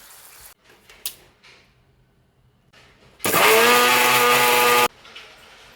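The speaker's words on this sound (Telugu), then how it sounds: "ఇప్పుడు స్టవ్ ఆఫ్ చేసి దీన్ని మిక్సీ చేద్దాం." A mixer grinder whirs loudly for about a second and a half, a steady motorized roar, after a few faint clicks and knocks.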